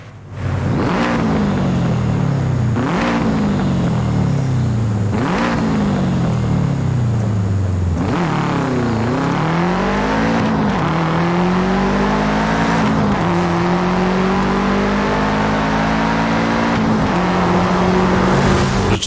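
A Subaru with a boxer engine in the off-road racing game Forza Horizon 5 revs hard through repeated rising gear pulls, then holds a steady loud drone, close and with no talk over it.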